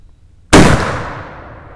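A single loud black powder muzzleloader rifle shot fired from a bench rest, a sharp blast with a long, fading rumble trailing off after it.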